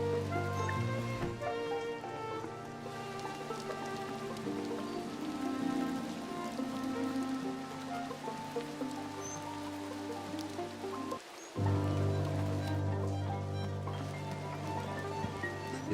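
Rain pattering in the video game The Midnight Walk, a soft steady patter layered under tonal music, briefly cutting out for a moment before resuming.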